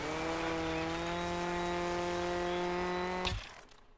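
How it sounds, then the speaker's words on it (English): Car engine in the Dirt 5 racing game during a handbrake skid: a steady, loud droning engine tone with strong harmonics holds for about three seconds, then cuts off abruptly into a brief noisy tail and fading quiet. "That's a handbrake."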